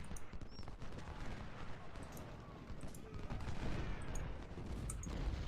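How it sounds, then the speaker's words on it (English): Troops fire rifles in the Civil War strategy game Ultimate General: Civil War, heard as scattered volleys and crackling musketry over a busy battlefield rumble, moderately distant. "Firing on these guys here."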